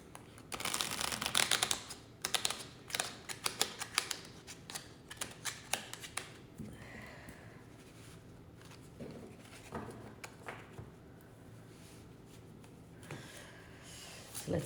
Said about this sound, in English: Just do one more shuffle.